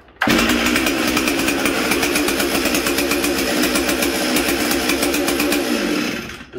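A Stihl 044 chainsaw fires up abruptly and runs steadily at a high, buzzing pitch, close and loud, with a rapid repeating firing pulse before cutting off at the end.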